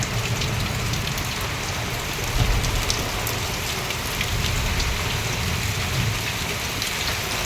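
Heavy rain in Odisha, India pours steadily onto hard surfaces, a dense constant hiss with a few brief surges in intensity.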